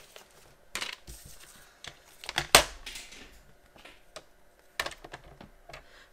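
A guillotine paper trimmer cuts card for a handmade pull-tab surprise card, giving one sharp, crisp slicing click between quieter taps and handling noises at close range.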